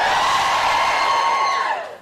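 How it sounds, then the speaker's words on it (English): A studio audience of students cheers and whoops together in one loud, sustained burst lasting about two seconds before tailing off. "Can you give me a cheer if you're a student?"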